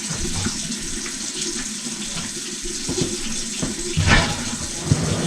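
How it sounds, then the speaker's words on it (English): Cold water runs from a kitchen sink tap in a steady, splashing stream, close by, during work on a backed-up main sewer line. There are occasional knocks and shifts in the flow, and no talking. "Do you run your kitchen sink cold water for me?"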